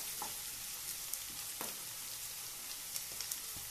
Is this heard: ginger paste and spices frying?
yes